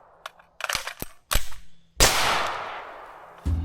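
Beretta 92 Elite pistol fired at an outdoor range: a quick string of sharp, loud shots at uneven intervals, one followed by a long ringing decay, with no talking.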